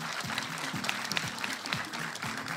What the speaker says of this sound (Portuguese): eu quero pedir um forte aplauso para as restantes finalistas pela excelente prestação que tiveram até aqui.